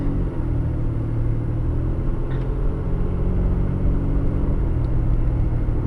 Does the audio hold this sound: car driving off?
yes